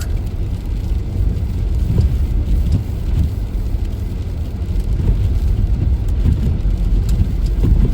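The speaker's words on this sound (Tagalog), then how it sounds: "Ang laki ng patak." Heavy winter rain with large drops drums steadily on a car in dark early-morning traffic, a dense, loud wash of patter over a low road rumble with no pauses.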